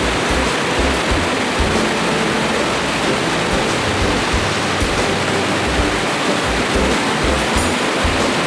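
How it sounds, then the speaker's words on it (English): A spectacular waterfall at the Sinks on the Little River in Great Smoky Mountains National Park roars in a steady, dense, close rush of falling water that stays loud and unbroken throughout, with no voices. "It's a waterfall that's spectacular."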